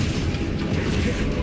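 A Confringo fire spell blasts in Hogwarts Legacy, giving a short, loud, dense booming burst with rumbling low end throughout.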